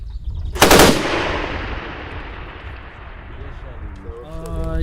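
A single loud tank gunshot cracks close by, then booms and echoes away for several seconds before voices start talking.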